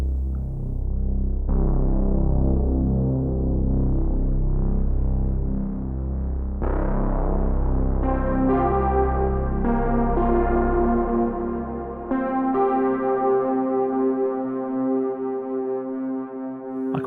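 Arturia synthesizer playing sustained, layered notes through a wide-open filter cutoff with reverb, building from low droning tones into brighter stacked chords with long release tails, loud and steady with no talk.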